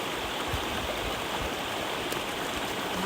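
Water boils outdoors for a meal in the White Mountains, giving a steady, close, rushing hiss and bubbling that stays even throughout.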